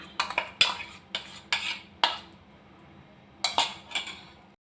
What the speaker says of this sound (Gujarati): પલ્પ નાખી દીધો છે અને સરસ આપણે હલાવી લેવાનું છે